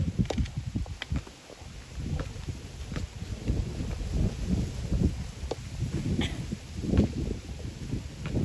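Strong gusts buffet the microphone in uneven low rumbling bursts, with scattered thumps and rustling close by.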